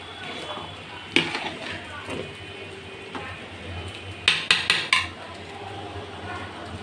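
A metal spoon stirs a cooking pot with eggs on the heat, giving a few sharp clinks and scrapes, one early and a quick cluster later, against a low steady background hum.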